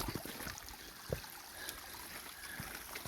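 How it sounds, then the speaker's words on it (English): Slaughter Creek, a mountain stream at the foot of Blood Mountain on the Appalachian Trail in Georgia, flows with a faint, steady wash and trickle, broken by a few soft low knocks. "Okay, so we are at Slaughter Creek."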